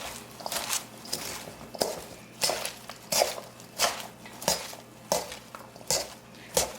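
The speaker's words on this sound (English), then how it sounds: "I'll take a pair of tongs and get everything evenly distributed in there" Tongs toss salad ingredients in a bowl for a no-oil vegan salad, making a rhythmic series of about a dozen close, crisp clattering and rustling strokes, with no talking.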